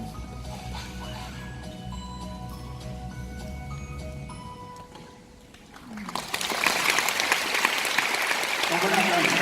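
Applause breaks out from an audience in a large hall at Sejong University's Daeyang Hall, a broad burst of clapping that swells after a quieter stretch of music and talk and keeps going steadily.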